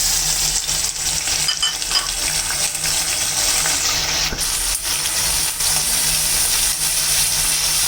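Grated onion and green chilli paste fries in hot oil while being stirred, a steady loud sizzle with scraping stir sounds throughout.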